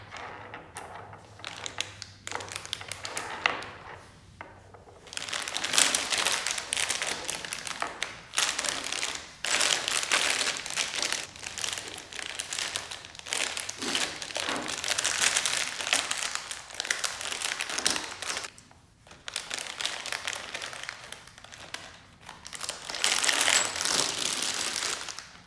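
Hands rummage through a plastic bag of TV mounting hardware, producing bursts of crinkling and rustling with small metallic clinks of bolts, plates and spacers, close and fairly quiet, pausing briefly between handfuls.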